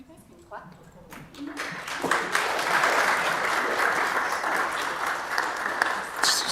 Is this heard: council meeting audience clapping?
yes